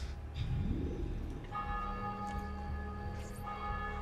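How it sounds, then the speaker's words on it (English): Church bells toll in Assassin's Creed II, sustained ringing tones layered and sounding through the scene after a rush of movement noise, fairly loud and without talk. "The bells are ringing"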